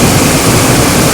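Continuous heavy rush of the Dudhsagar waterfall in Goa, a broad, even roar of cascading water filling the scene without pause or speech.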